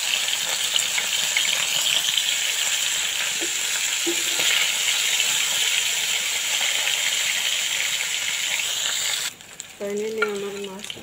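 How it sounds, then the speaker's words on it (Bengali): Koi fish frying in a pan for a spicy curry, a loud steady sizzle and crackle of hot oil that carries on for most of the clip, then cuts off and quieter kitchen sounds follow. "মাছ ভালো করে আমি ভেজে নেব।"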